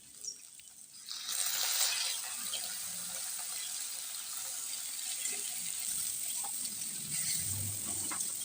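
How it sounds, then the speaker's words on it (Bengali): Chopped onion and green chilli frying in hot oil in a pan, a steady crackling sizzle that starts after a second and holds at a moderate level with no one speaking. "সবগুলো একটু ভালো করে ভেজে নেব"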